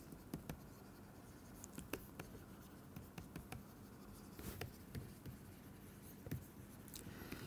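Chalk or marker writing on a board during a thermodynamics lecture: faint, quiet scratchy strokes and taps in short irregular bursts over a low room background, with no one speaking.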